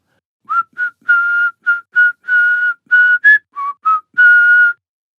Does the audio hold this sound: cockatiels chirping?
no